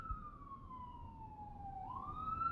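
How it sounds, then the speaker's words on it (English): A passing ambulance siren wails steadily in the distance, its tone sliding gradually downward and then rising again, heard on its own over low traffic rumble with no talking. "See, there's the ambulance right now."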